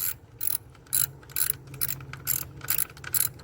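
A ratchet clicks in quick repeated bursts while tightening a bolt on a Ford Fusion valve cover, with close, crisp pawl clicks in several strokes and no talking.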